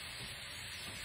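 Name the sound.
pork chops frying in a pan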